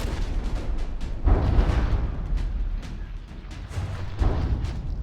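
Warship cannons fire in the naval combat game From the Depths, a series of heavy booming blasts with rumbling low tails, repeated several times in close succession.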